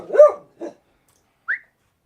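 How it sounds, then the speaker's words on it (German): A dog gives a few short, separate barks and yelps close by, with quiet gaps between them and a higher whine-like call near the end. "Was ist jetzt los mit dem Hund?"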